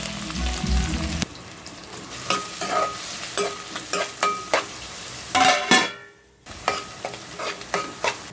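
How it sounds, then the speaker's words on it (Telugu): Chopped onion and green chilies frying in hot oil in a pan, a continuous sizzle broken by repeated scraping stirs of a spatula, with a brief quiet gap before the stirring resumes. "ఉల్లిపాయ పచ్చిమిర్చి వేగింది కదండి"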